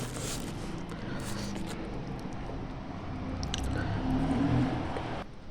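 Biting and chewing a sugar-syrup dipped sweet puri from a street food stall, soft squishy munching that runs steadily near the microphone with a slightly louder crunchy stretch toward the end, no talking.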